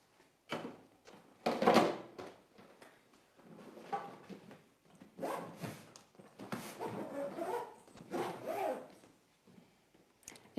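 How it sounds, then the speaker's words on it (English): A backboard slides into the lid of a storage box in a few scraping, rubbing strokes with short pauses between them, close and fairly quiet, with no talking. "The backboard slides into the lid."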